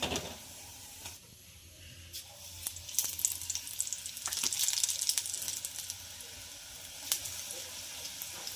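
Chili bhaji fritters frying in hot oil give a soft, steady sizzle with brief crackling bursts and faint clinks, close by and without talk.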